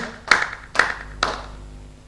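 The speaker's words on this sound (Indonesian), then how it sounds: "Kamu berikan tepuk tangan bagi Tuhan kita." Three sharp hand claps ring out at an even pace during a Christian church service, each one crisp and close, then fading into a quiet room.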